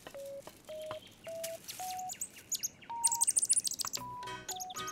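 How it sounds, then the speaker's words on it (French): A baby bird and its parents chirp in a French children's cartoon. Clean, evenly spaced whistled tweets step upward in pitch, then rapid high twittering and a buzzy trill follow, all fairly soft and with no talking. "Regarde, Trotro, voici ses parents."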